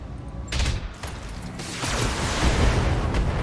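A volley of missiles fired by a mech in the BattleTech video game, a string of loud booming launches and blasts that swell into a sustained roaring rumble.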